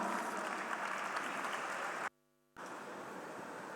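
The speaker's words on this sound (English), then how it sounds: "please give a round of applause for Mr. R.L. Tamak." Audience applause fills a sugar industry convention hall, steady and dense, with a brief total dropout midway before the clapping resumes just as strongly.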